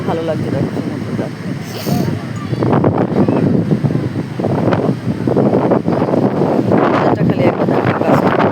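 Wind and waves on the sea shore at Puri on an early morning, a steady rushing wash of surf and gusts running continuously beneath people talking nearby.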